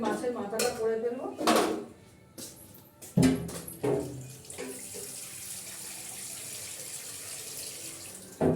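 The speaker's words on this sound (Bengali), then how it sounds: "দেখো, অল্প করে জল দিলাম" Water is poured a little at a time into a cooking pot on a home kitchen stove, a soft running splash with some clinks of utensils and metal, followed by a steady faint hiss, with brief speech at the start.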